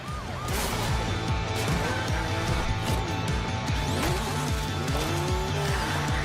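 Engines of RC cars race in The Crew Motorfest video game, with tire squeal, skidding and revving running loud and continuous throughout, several cars passing one after another.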